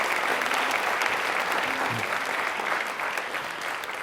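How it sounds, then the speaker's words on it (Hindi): Sustained, enthusiastic applause from a studio audience on a televised quiz show, dense and even clapping that continues throughout. "एक बार तालियां वापस से जोरदार बजाइए।"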